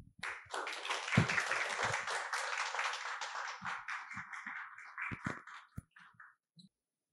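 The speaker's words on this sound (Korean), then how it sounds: "큰 박수로 무대로 모시겠습니다." An audience at an energy-industry presentation claps to welcome a speaker to the stage, a close burst of applause that swells quickly, holds for several seconds, then thins into scattered claps and fades out.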